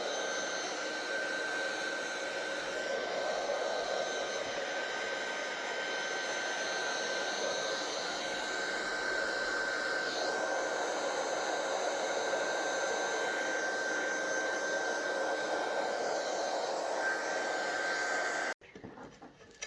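A heat tool blows steadily and loudly up close for nearly twenty seconds while drying ink on a handmade card, a constant whooshing roar with a faint high whine, then cuts off abruptly near the end.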